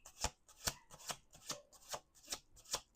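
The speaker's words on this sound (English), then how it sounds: "We're going to do 2 more shuffles after this." Tarot cards are shuffled in a steady rhythm of seven crisp, riffling pulses, close and quiet, with no voices.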